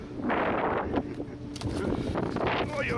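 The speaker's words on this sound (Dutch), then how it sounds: "wat een wind" Strong wind buffeting the microphone in a steady loud roar outside an abandoned factory, with faint voices and movement underneath.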